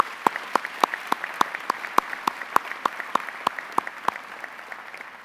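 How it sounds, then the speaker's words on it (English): Audience applause at an opening convocation on a college campus: a small crowd claps steadily with sharp, evenly spaced near claps standing out over a softer spread of clapping, fading slightly toward the end, no one speaking. "let's give Yvonne a round of applause"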